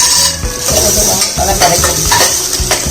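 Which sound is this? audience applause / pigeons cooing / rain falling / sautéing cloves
sautéing cloves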